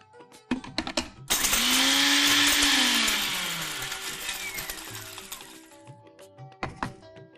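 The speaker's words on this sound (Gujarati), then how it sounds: "મિક્સર જારમાં લઈ લઈએ. સૌથી પહેલા આપણે મસાલાને ક્રશ કરીશું." A kitchen mixer grinder crushes roasted spices in its jar, a loud steady whirring grind that starts abruptly, holds for a few seconds with a pitch sweep, then fades as it winds down, with brief clatter before and after.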